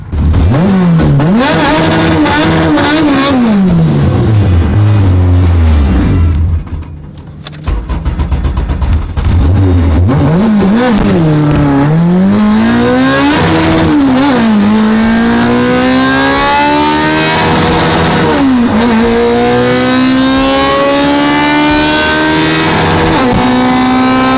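A 450whp Honda race car accelerates hard down a drag strip, its engine loud and close from inside the cabin, rising through repeated gear changes with brief dips between shifts and one pause before it pulls again.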